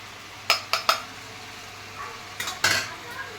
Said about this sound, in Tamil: இப்போ வந்து இதை நல்லா கிளறி விட்டுறணும்